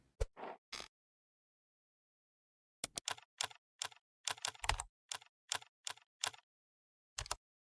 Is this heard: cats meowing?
no